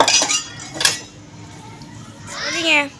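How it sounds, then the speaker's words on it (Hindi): Dishes and cutlery being washed, with bright metallic clinks and clatters near the start mixed with children's voices and someone speaking loudly toward the end. "हाँ जी मैं बर्तन धो लिया"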